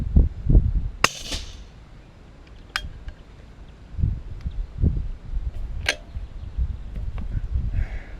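A .410 Baikal Hushpower suppressed shotgun fires Eley 2.5 inch 12.5 gram 6 shot cartridges, giving a few sharp, muted cracks spaced seconds apart over low outdoor rumble and handling noise.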